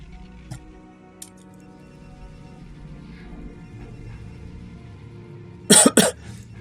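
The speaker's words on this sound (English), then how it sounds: "Sorry, I'm coughing a lot." A person coughs twice in quick succession, loud and close, near the end of an otherwise quiet stretch with faint background noise during a PvP game session.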